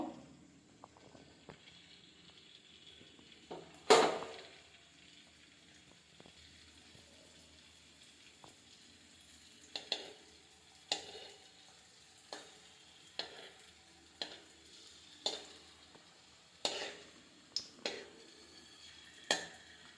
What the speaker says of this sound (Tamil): அந்த எண்ணெயில் கொஞ்சமாக பெருங்காயம் சேர்த்துக்கலாம். பெருங்காயம் பொரியட்டும்.